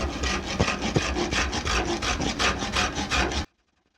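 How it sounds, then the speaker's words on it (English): Microplane rasping along the edge of a wooden board bow, a steady run of rhythmic scraping strokes, close and fairly loud, that stops abruptly into silence near the end. "First thing I'm going to do here is just use my microplane and even this edge up here"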